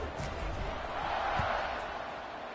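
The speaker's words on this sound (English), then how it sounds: "this crowd is buzzing after that last score" Football stadium crowd after a score: a dense, sustained buzz of many voices rolling steadily throughout, swelling slightly in the middle, with no clear words standing out.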